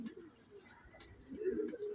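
Pigeons coo softly near their lofts in a faint, low, throaty murmur that swells toward the end, with a little background noise and no voices.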